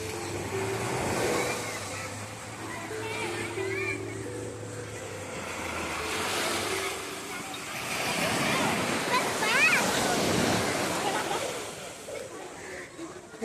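Ocean waves wash ashore at Om Beach, a steady broad surf roar that swells midway, with a person talking over it and a crowd of beachgoers around.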